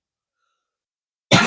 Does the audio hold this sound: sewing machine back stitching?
no